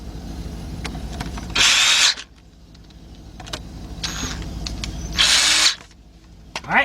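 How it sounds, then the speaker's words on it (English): Cordless drill fitted with a 10mm deep socket driving transmission bolts on a Nissan RE0F11A, two loud high-pitched whirring bursts separated by quieter workshop clatter and clicks, close by with no talk. "I'm using my cordless drill with a 10mm deep socket"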